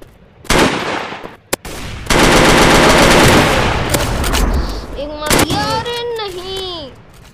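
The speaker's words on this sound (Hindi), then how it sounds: "इतनी तेज चलती है गन कि हिलती ही रहती है।" Rapid automatic gunfire from a gun in a mobile shooter game, loud sustained bursts with brief gaps, followed by chirping whooshing game effects near the end.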